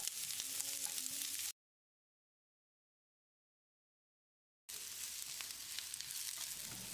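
Steady sizzling of sliced onions frying in oil in a pan, loud and close, cut off by a stretch of silence before the sizzle resumes.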